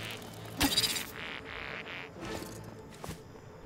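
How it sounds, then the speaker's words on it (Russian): Bees in the Smalland survival video game give off a steady, mid-pitched insect buzz that swells and fades over a few seconds, with a brief louder hum near the start and faint game ambience beneath. "здесь пчелы."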